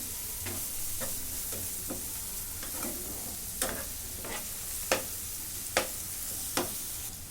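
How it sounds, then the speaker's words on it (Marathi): A steady, soft sizzle of onion and ginger-garlic paste frying in a pan, with a spatula scraping through it in sharper strokes that grow more regular toward the end. "आलं लसूणचे पेस्ट टाकून घेते आता हे पण परतून घेते"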